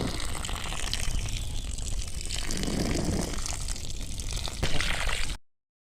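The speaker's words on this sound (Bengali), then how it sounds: "পাইপ দিয়ে জল দিয়েছি গাছটাকে ধুয়ে স্নান করে দেবো" Water from a hose pipe pours steadily over a freshly transplanted ash gourd plant, a continuous gushing splash with a brief louder surge near the end before cutting off.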